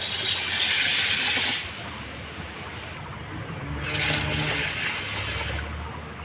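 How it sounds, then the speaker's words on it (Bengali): Water is poured into a container of lentils set to soak for cooking, a steady close splashing gush that runs for about a second and a half, eases off, then swells again for a second pour. "তো জল দিয়ে দেবো এবার।"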